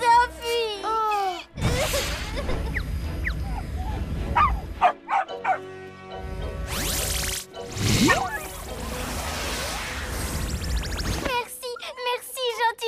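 A small dog barks and yelps in a few short bursts, then whimpers, heard close and fairly loud, with voices talking in between.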